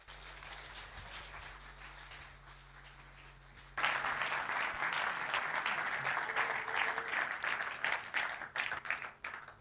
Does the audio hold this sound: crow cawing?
no